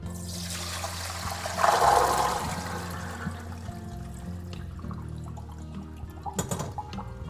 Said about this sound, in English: Let's pour them off. Pour them into a colander.